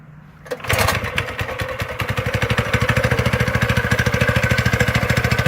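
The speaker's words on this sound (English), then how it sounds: "Now you want to start up the engine." A mini bike's small engine is pulled to start, catches after a brief rattle, then runs close and loud with a fast, even putter that gradually steadies.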